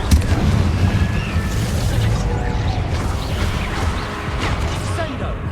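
Confringo fire spell detonating in Hogwarts Legacy, a dense, loud booming rumble with crackling bursts sustained throughout, close and full, over game score.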